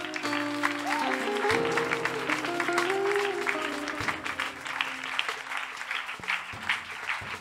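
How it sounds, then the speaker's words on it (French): A church congregation cheers and applauds in praise, steady clapping blended with voices and sustained musical tones, loud and continuous throughout. "Ça, c'est une acclamation d'un peuple reconnaissant."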